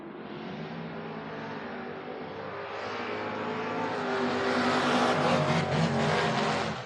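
At a drag race, an El Camino takes on a Camaro, the engines swelling from a rumble into a rising, roaring howl as the cars pull away, loud and unbroken, with no voices.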